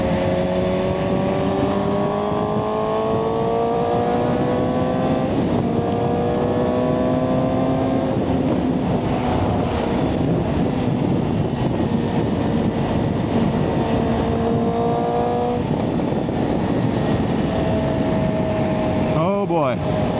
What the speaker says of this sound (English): You love that Yashimura Alpha T exhaust just popping in the back.